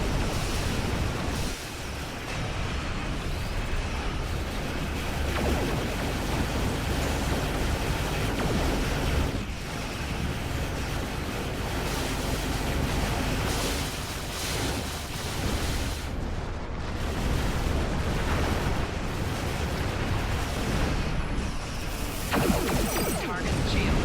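Starship weapon volleys from a Star Trek Online battle strike an enemy ship, a dense, continuous roar of blasts and rumbling impacts sustained at high loudness throughout, with no clear gaps between hits.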